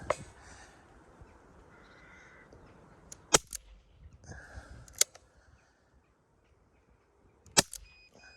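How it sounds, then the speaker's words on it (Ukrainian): Three sharp, sparse cracks from a 4mm Flobert rifle fired at a target, spaced a couple of seconds apart, with crows cawing faintly in the background between them. "Отже, стріляємо по мішенці."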